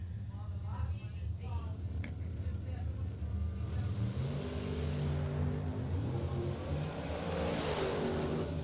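Drag racing cars roar off the starting line with loud, sustained engine noise that rises in pitch, heard under a commentator's continuous talk.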